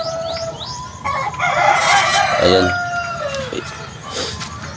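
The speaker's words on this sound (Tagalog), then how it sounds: "Yan yung mga babae ko na manok mga kabuli" Kabuli hens kept for crossbreeding cluck and squawk nearby, with a rooster crowing among them in a loud, busy burst; someone speaks briefly over the birds.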